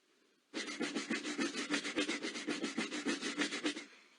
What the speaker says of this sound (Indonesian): Ini adalah suara menggosok.